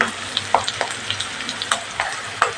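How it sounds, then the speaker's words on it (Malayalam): Water poured into a hot pan of dried red chillies, green chillies and salt for upma, hissing in a steady close sizzle marked by regular stirring clicks. "വെള്ളം ഒഴിച്ച്"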